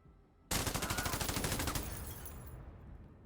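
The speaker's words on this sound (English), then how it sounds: "I can't hit him with the machine gun, though." A machine gun fires in the MENACE tactical video game: after a short hush, a loud, rapid burst of about a dozen close shots rattles out for over a second, then rings off in a fading echo.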